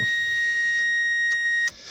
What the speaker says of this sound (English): if I leave the lights on, you can hear the beep now